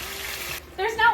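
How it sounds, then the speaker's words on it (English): Pasta water hits hot oil and garlic in a pan, giving a loud, sharp hiss and spatter for about half a second before it cuts off and a voice follows. "And then I'm supposed to add 3/4 of a cup of pasta water"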